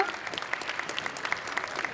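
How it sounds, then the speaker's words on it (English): Audience applause for a woman invited onto a stage at a live-streamed community event, soft and somewhat distant clapping from a modest crowd that carries on evenly throughout. "Let's give her a round of applause, please."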